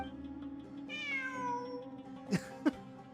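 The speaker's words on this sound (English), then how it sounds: "It really is a cat." A cat in the video game Genshin Impact gives a single drawn-out meow that slides downward in pitch, clear and fairly close. Two short, sharp knocks follow near the end.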